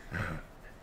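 A spooked pet dog lets out a short, low grumbling growl close by, swelling briefly and then fading into quiet.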